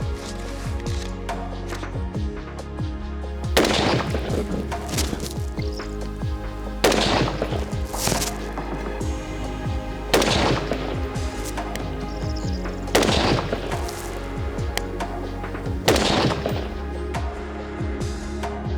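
AR-15 type carbines fire at an outdoor shooting range, sharp single gunshots spaced a few seconds apart, each followed by a ringing echo, with a steady low background hum and no talk.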